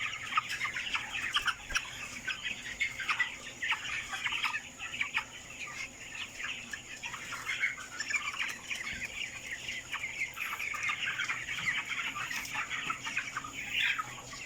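Broiler chickens 25 days old, about 1.5 kg each, cluck and chirp steadily throughout a crowded farm house, a dense chorus of many birds at moderate volume with no talking.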